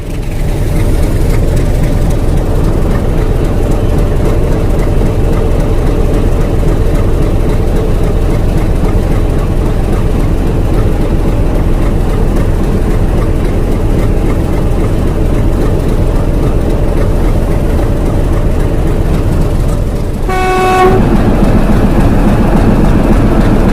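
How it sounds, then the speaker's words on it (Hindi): A train hauled by two engines departs Patalpani railway station in hilly country, giving a steady, loud, low engine rumble throughout, with a short horn blast near the end. "और अब हमारी ट्रेन का डिपार्चर यहाँ से होगा"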